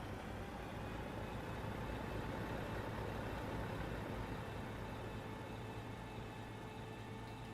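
A Ford F600 truck engine in a video game idles with a steady low rumble, unchanging throughout with no other sounds.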